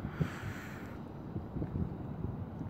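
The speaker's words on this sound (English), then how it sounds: "It's windy." Gusty wind buffets the microphone with a low, rumbling roar throughout.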